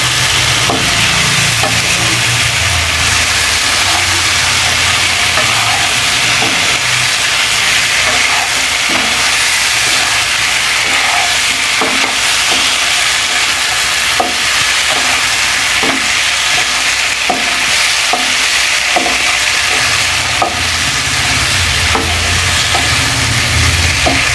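Boiled eggs frying in a pan, a loud constant sizzle and hiss running throughout, with scattered scraping taps from stirring.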